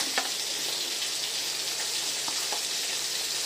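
Stuffed milkfish (relyenong bangus) fries in a pan with a steady, dense sizzle and scattered small pops, close and continuous, with no voices.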